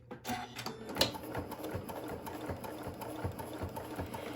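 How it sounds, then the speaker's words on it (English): A sewing machine runs slowly along a 1/4 inch seam on a bag, its needle ticking in a steady, close, moderately loud chatter with a brief sharper knock near the start. "I'm going to sew down 1/4 inch"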